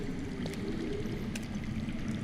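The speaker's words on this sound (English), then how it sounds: "I hear water. From underground." Water flowing somewhere underground, a steady low rushing and trickling murmur that stays constant and fairly faint throughout, with no voices.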